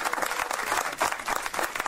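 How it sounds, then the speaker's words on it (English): An audience at a film event gives a round of applause, a steady mass of overlapping claps that holds at an even, moderate level for about two seconds, with no speech. "give him a round of applause."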